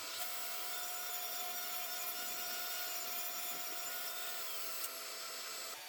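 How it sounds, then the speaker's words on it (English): A power saw rips poplar boards into face frame pieces, a continuous high, whining cut that holds steady and fairly loud from start to finish. "So here I am cutting out the front face frame"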